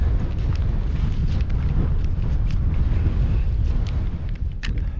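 Strong, breezy wind on an open Scottish mountain hillside buffets the microphone with a loud, continuous low roar that gusts unevenly for the whole stretch.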